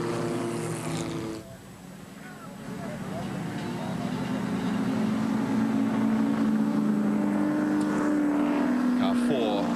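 Race car at the 1987 Bathurst 1000 endurance race, an engine drone that dips and then builds into a sustained loud roar as the car passes, heard under broadcast commentary.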